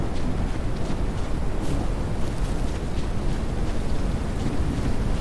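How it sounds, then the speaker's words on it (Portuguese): Strong wind in a survival video game, No One Survived, rushes in a dense, continuous roar with gusty buffeting, steady and loud throughout. "Nossa, que vento que tá aqui!"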